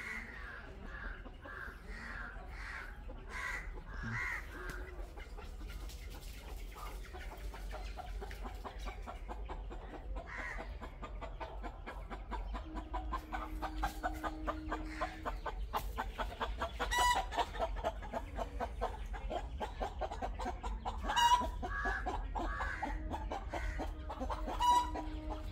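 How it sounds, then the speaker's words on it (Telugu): Chickens clucking and a rooster crowing in the yard of a grandmother's tile-roofed house with love birds and other birds kept there, repeated calls near and far over soft background ambience, with no talking. "మా అమ్మమ్మ ఇంట్లో పక్షులు, కోళ్ళు చాలా ఉంటాయి"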